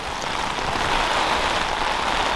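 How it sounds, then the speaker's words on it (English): Heavy rain pouring down during stormy weather, a dense, steady hiss of drops striking surfaces that fills the whole stretch with no pauses or speech. "the amount of rain coming down, I'm already seeing flooding starting"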